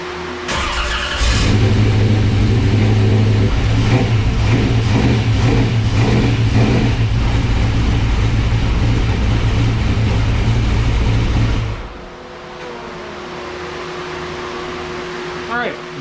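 A Camaro engine warming up after dyno work, rumbling loudly and steadily at a raised idle with a rev near the start, then cutting off abruptly toward the end, leaving a quieter fan-like hum.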